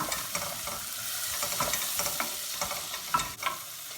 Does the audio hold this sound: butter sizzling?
yes